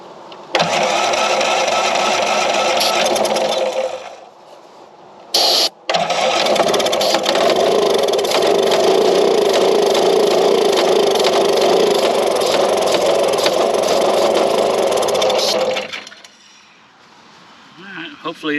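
A Craftsman LUV lawn utility vehicle riding mower engine, choked and primed with carburetor cleaner, cranks and runs loudly and steadily for about ten seconds, cuts briefly, then catches again before dying down, with talk around it.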